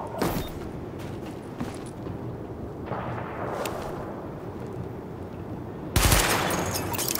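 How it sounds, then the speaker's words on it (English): In The Division video game, gunfire hits targets during a weapon test, with sharp shots early and a loud burst near the end over a steady noisy background, and no talking. "Open fire at the highlighted targets."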